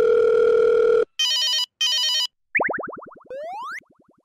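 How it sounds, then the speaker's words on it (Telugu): A mobile phone rings with an electronic ringtone: a steady tone, two clipped beeping bursts, then cartoonish boinging and sliding whistle effects, loud and alone without talk. "ఎదవలనగానే ఫోన్ వచ్చింది"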